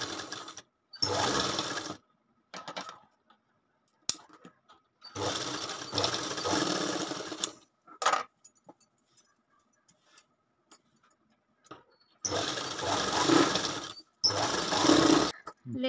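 A sewing machine stitches lace in a round curve onto a lined katori blouse. It runs in three whirring bursts of about two to three seconds each, separated by quiet pauses.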